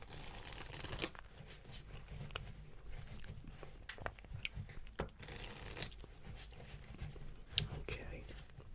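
Fades playing cards being shuffled, soft crisp riffling and flapping in quiet, intimate bursts across several seconds, close up with a few scattered taps and rustles.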